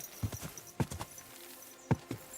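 Horse hooves clip-clop on the ground in Kingdom Come: Deliverance 2, a few uneven steps heard close and alone, with a short gap before two more footfalls.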